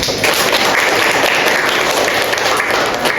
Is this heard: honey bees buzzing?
no